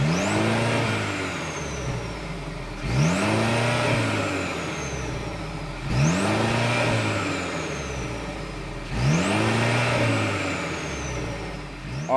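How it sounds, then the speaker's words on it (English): Exhaust of a 2023 Mercedes-Benz C300 with a 2-liter inline four, revved three or four times in a row: each rev climbs sharply and then falls back to idle, loud and close, with no talking. "Let's go ahead and listen to see what this exhaust sounds like."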